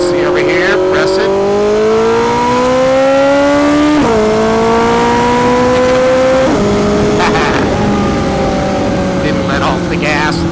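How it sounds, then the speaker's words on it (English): A street-legal drag motorcycle with an air shifter accelerates hard, its loud engine climbing in pitch through several rapid upshifts, each marked by a sharp drop and renewed rise, with wind noise and voices underneath. "all I'm going to do is press the horn button and the bike's going to shift like magic"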